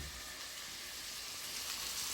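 Chopped tomatoes hiss and crackle in a hot pan for a South Indian paneer gravy, a steady close sizzle that keeps going throughout with no talking.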